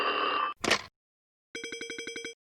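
Toy phone ringing, a rapid bright trill of repeated electronic chirps lasting under a second, preceded by a short buzzing tone and a noisy burst, then silence.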